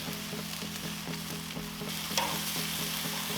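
BBQ wings sizzle on a Char-Broil Performance Series gas grill, a close, steady crackle with a faint rhythmic ticking beneath and one brief louder pop midway.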